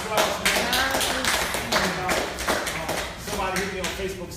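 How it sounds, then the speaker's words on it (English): Audience clapping at a spiritual gathering, a dense, steady patter of many hands that holds for several seconds, mixed with crowd voices and cheers underneath. "give yourselves a round of applause"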